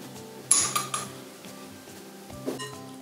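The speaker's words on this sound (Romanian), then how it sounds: "Amestecăm puțin ca să fim siguri că s-a dizolvat." A spoon clinks against a bowl while stirring a baking soda mixture for an orange-juice cocoa cake, a few sharp metallic taps near the start and another around the end, fairly close and moderately loud, with no talking.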